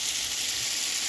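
Diced potatoes, soaked in water beforehand, sizzle in a pan as they fry for hash, giving a steady, bright, close crackling hiss with no pause.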